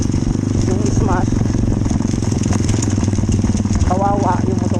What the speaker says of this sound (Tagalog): yung motor ko kasi maliit masyado, hindi kaya dito